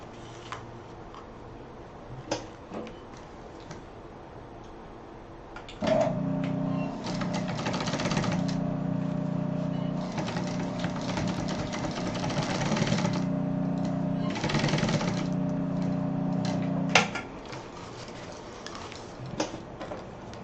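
A sewing machine stitching a cross-body bag runs in a steady, loud, rapid mechanical whir for about eleven seconds. Before and after it come a few soft handling clicks.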